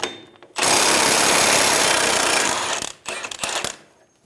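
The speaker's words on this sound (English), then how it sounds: "Using a 32mm socket, remove the axle nut." Impact wrench rattling off the front axle nut of a 2000-2007 Ford Focus through a 32mm socket: one long loud hammering burst of about two and a half seconds, then short follow-up bursts, close by.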